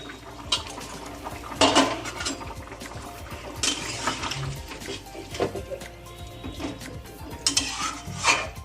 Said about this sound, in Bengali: তারপর তো এবার ঢাকনাটা খুলে ফেলছে